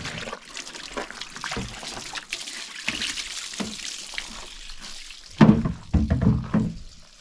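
Water running and splashing as it rinses spilled brake fluid off an old Isuzu during master cylinder work, a steady trickle with heavier splashing bursts near the end, no talk.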